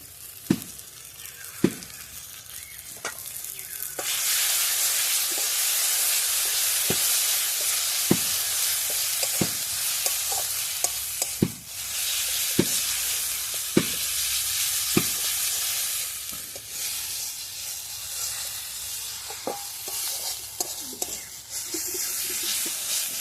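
Spice masala with cumin powder sizzles steadily in oil for a mango and shol fish curry, the loud frying hiss beginning after a few quiet seconds, with regular spoon scrapes and taps against the pan throughout.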